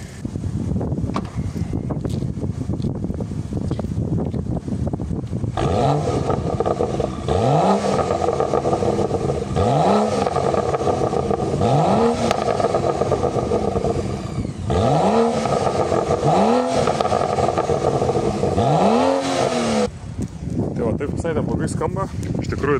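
A BMW E93 335i engine is blipped repeatedly, rising and falling revs in a series of short pulls over a steady idle, close and loud, with a voice speaking around it.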